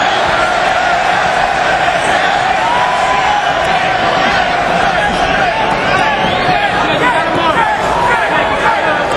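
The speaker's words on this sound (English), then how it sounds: "listen to this crowd. Chants of Miller." A loud, dense arena crowd at a grappling fight roars and chants the name of a fighter, a continuous rolling wall of voices with rhythmic shouting rising through the din.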